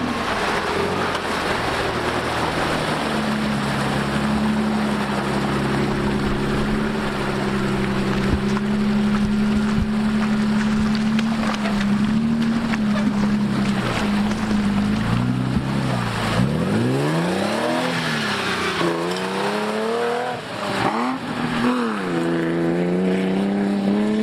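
An Opel Frontera B 3.2 V6 off-roader wades slowly through deep water over gravel, its engine droning steadily and rising in revs near the end, with splashing and sloshing water throughout.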